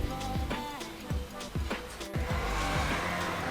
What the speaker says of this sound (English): Oh, these cars, just constant cars.